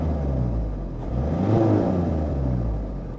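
A car engine idling during scan-tool diagnostics, a steady low rumble that swells into a brief rev near the middle and settles back, close and fairly loud, with no talk.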